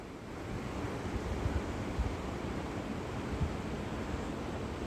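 A river fed by a Yosemite waterfall flows past, a steady broadband rush of moving water at moderate distance, continuous and even, with no voices.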